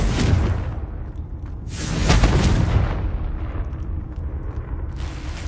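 Booming magical blasts from a Confringo spell in a video game, with a roaring whoosh swelling in the middle and a lingering rumble around it.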